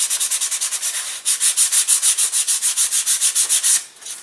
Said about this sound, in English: we're going to come along with sandpaper and we're going to bevel the leading edge of the wing